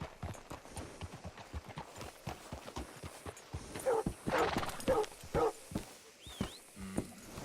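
Hooves clip-clop at a steady walking pace on hard ground in Red Dead Redemption 2, close by, with a dog barking a few times and a short whinny.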